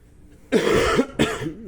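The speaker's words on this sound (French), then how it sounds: "J'ai la voix cassée et je tousse en ce moment" A person with a hoarse voice and a stuffy nose coughs: two short harsh bursts in close succession, a long one then a shorter one, loud and near with nothing else around them.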